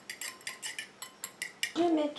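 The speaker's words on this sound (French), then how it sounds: "Je mets tout ça en pot." A spoon scrapes and taps repeatedly against a small jar as homemade anti-fungal balm is scooped and packed into pots, a quick series of light clinks ending in a brief louder scrape, close and quiet.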